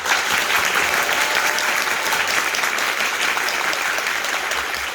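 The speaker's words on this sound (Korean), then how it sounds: "다시 한 번 이들에게 큰 박수 부탁드립니다" Theatre audience applauding the cast of the musical King Arthur at a curtain-call stage greeting: dense, steady applause sustained at full strength for the whole stretch, with no voices on top.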